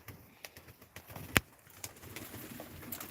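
Pigeons in a flying coop on a snowy night give soft, faint coos over a dim, noisy background, with one sharp click in the middle.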